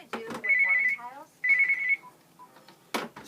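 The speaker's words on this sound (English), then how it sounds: "that was the phone ringing" A telephone rings twice in steady electronic bursts, fairly close, with short pauses between, and brief speech fragments sound before and after the rings.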